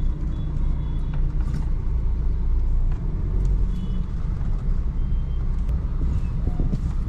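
Heavy, congested road traffic rumbles steadily beside the new bus station complex in Sangamner, Maharashtra, with engines, vehicle noise and faint intermittent beeps blending into a continuous dense wash.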